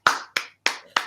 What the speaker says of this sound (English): I don't like that clap.